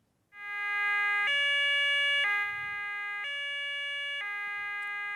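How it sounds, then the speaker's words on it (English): A two-tone police siren alternates steadily between high and low pitches, loud and close, with no voices. "that's a police siren"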